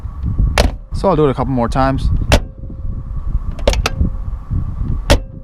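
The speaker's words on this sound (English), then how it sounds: "even from just opening the door, you can hear how well this car was put together" A Porsche 993's door thunks shut several times, sharp solid slams spaced out, with a brief whirring mechanical sound between them.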